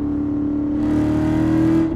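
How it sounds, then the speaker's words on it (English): A smooth Corvette V8 engine drones steadily and then climbs in pitch as it accelerates, a deep continuous hum that cuts off abruptly at the end. "Very smooth power from the V8s"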